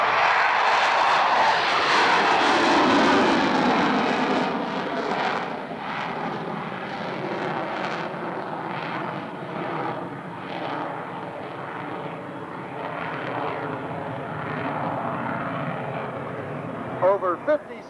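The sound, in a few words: Grumman F-14B Tomcat jet fighter flying at airshow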